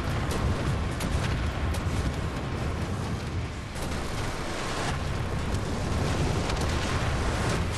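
A heavy-armored Juggernaut enemy in Wolfenstein: The New Order fires rocket spears, making a dense, loud, continuous roar of blasts with scattered sharper cracks.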